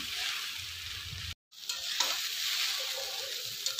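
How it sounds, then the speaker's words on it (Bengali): Chow mein stir-fried in a pan, a steady hissing sizzle with scraping stirs, broken by a brief total dropout near the start before the frying resumes, close and alone without voices. "ভালো করে নেড়ে করে ভাজতে হবে, চাউমিনটা না লেগে যায়।"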